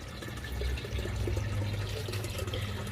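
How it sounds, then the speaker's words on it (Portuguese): Water runs steadily through a hydroponic vegetable garden circulation system, producing a continuous trickling and gurgling wash that stays even throughout, with no voices. "O processo de circulação agora, a água tá ligada. Tá vendo o barulhinho?"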